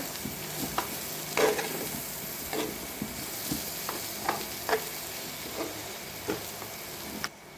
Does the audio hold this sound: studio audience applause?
no